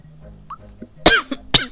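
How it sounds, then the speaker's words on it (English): Two sharp, loud coughs close up, one after the other, preceded by a faint throat sound. "Seem to be coughing quite a bit today."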